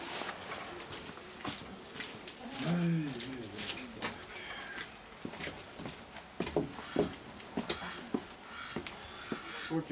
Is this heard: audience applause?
no